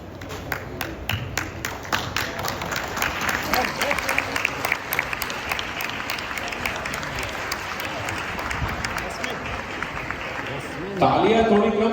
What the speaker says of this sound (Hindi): तालियां थोड़ी कम लग रही है इस बच्चों की उम्र के सामने